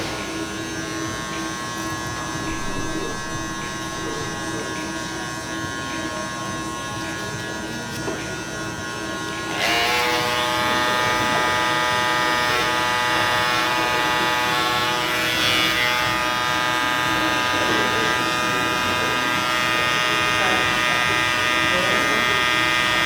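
Detachable-blade hair clippers buzz steadily while trimming the neckline of a skin fade, a close, continuous electric hum with a bright harmonic whine that grows slightly louder and harsher partway through as the blade meets hair.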